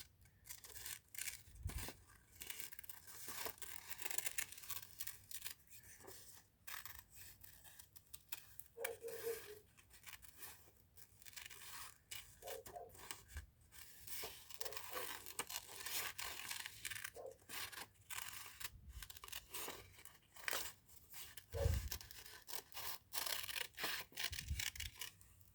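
Scissors cut paper for a paper bag junk journal, with soft snips and rustling scattered through a long stretch at close range, quiet and unhurried, with no voices over the crackle of handled paper.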